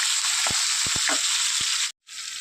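Curry leaves and ingredients for a dried-prawn mango pickle sautéing in a pan, a dense, bright hiss of frying with a few short spatula knocks, close up, cutting out briefly near the end.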